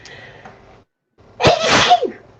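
One loud, close sneeze follows a short quiet intake, preceded by faint background talk.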